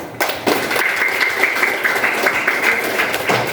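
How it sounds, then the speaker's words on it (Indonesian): Classroom applause from a group of students, a sudden start followed by brisk, fairly close clapping that stays steady and energetic to the end. "Ya, tepuk tangan."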